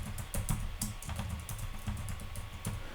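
Keys on a computer keyboard are typed in a quick, steady patter of soft clicks for a few seconds, close and alone with no speech.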